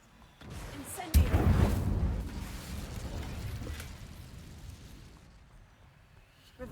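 A sharp whooshing burst from the Incendio fire spell in Hogwarts Legacy flares up, then fades into a long rumbling tail over quiet game ambience.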